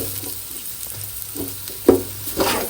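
Onions and green chillies frying in a pan, with a soft, steady sizzle and a few louder scraping stirs near the end, close by and with no talk.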